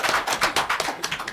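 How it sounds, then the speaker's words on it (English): A small audience at a student government debate claps briefly. The hand claps are moderately loud and uneven, lasting just over a second with no talking over them. "Now you can clap if you want."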